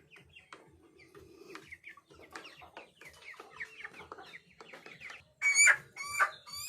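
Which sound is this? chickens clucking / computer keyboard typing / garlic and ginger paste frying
chickens clucking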